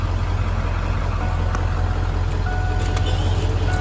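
A 1997 Ford F350 truck idling after a remote start, its engine a steady low rumble with a constant drone and faint mechanical ticks, close and continuous.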